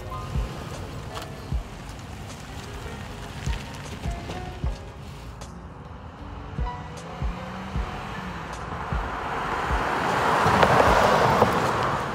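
High-mileage Toyota 4Runner driving on the road: a low interior engine and road rumble with repeated soft thumps over bumps and a swelling wind and tire roar toward the end.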